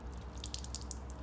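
Water poured from a cup into a car detailing container, a faint, quick trickle of splashing drips over a quiet low hum.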